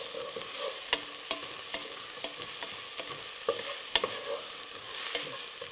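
Diced vegetables fry in a pan for lentil soup, a continuous sizzle broken by frequent light taps and scrapes of a utensil stirring, close and moderately quiet.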